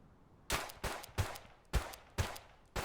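Six sharp pistol shots fired at uneven intervals in the survival shooter Deadside, each a crisp close crack with a short tail, over a quiet background.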